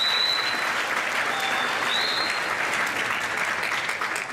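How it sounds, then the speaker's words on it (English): Steady, dense audience applause in a high school assembly welcoming a guest speaker, even and continuous for several seconds with a few faint whistles. "So please give him a round of applause."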